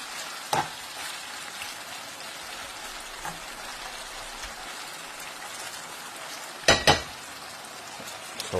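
Homemade pork tocino (pindang babi, hamonado style) frying in a pan, a steady soft sizzle with faint crackling throughout and a couple of sharper pops near the end, no talking.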